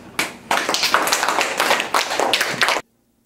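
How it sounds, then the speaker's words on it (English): A short round of clapping from a small group, dense and close, running steadily for under three seconds before stopping abruptly. "And I think they deserve a round of applause."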